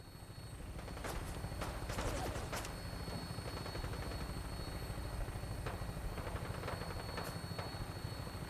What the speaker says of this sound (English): I'm already hearing gunshots at the ship